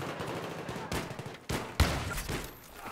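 Gunfire in the video game Battlefield 3, a few sharp bursts and single shots cracking out over a busy battle din, one louder close report standing out near the end.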